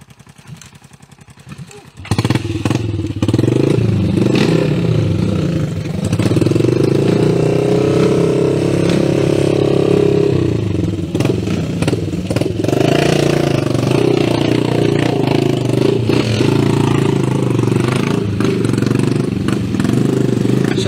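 A habal-habal motorcycle taxi engine idles and revs steadily at close range, loud and continuous after a brief quieter start, with some talk mixed in.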